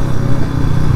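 A Hero Splendor Plus 100cc motorcycle ridden on a mountain road, its small engine giving a steady low putter for about a second, close and fairly loud, with no talk.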